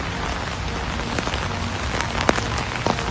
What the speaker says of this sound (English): It is pouring rain and the ponies are outside